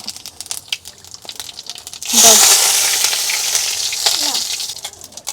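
Cumin seeds hit hot oil in a home kitchen while a Bengali shrimp and eggplant dish is being cooked. After about two quiet seconds, a sudden loud sizzle bursts up and keeps crackling steadily to the end.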